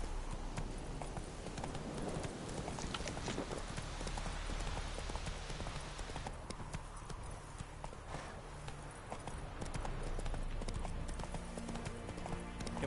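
Hooves of the horse Roach clip-clop in The Witcher 3, a steady trotting rhythm of close, crisp impacts that continues throughout without talk.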